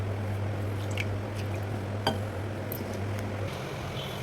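Samosa pastry dough, made stiff like chapati dough, is kneaded by hand, giving soft, steady squishing and squelching over a constant low hum, with one brief sharp click midway.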